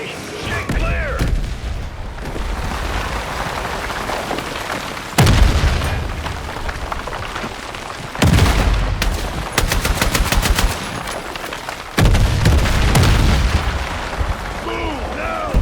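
Artillery shells explode in a Battlefield 6 combat scene, several loud booms landing at intervals amid bursts of rapid machine-gun fire and steady battle noise, with voices calling out now and then.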